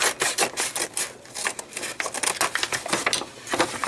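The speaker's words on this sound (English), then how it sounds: "Let me cut the top here and see what we got. I'm going to cut that seam off." Scissors cut the seam off a brown paper bag, giving a steady series of close, crisp crunching snips and papery rasps that repeat in a quick uneven rhythm.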